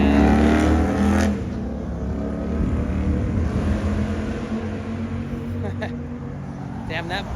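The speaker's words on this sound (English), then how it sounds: "damn, that motorcycle was loud as fuck." A loud motorcycle engine roars past on a Los Angeles street, its throaty rumble strongest in the first second and then fading into steady traffic drone, with a voice faintly present underneath.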